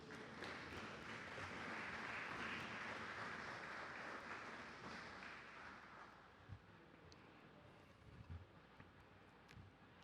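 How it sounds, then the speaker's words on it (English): A House of Assembly chamber fills with sustained applause for local law enforcement officers, a dense, steady wash of many hands clapping at a distance that gradually thins out, with a few louder knocks near the end. "join me in giving our local law enforcement officers a resounding round of applause"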